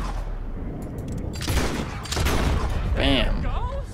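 A few sharp gunshot cracks in Red Dead Redemption 2, mixed with movement noise and a short burst of voice, fairly close and loud against a busy background.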